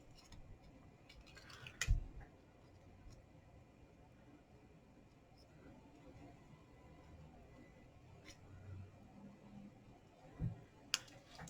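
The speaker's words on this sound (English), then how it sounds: "Because it's so tiny, it makes it easier to cut it out by giving it the wee border." Scissors make small snips while cutting out a tiny stitchery card piece, with a few distinct clicks at about two and eleven seconds against a quiet background.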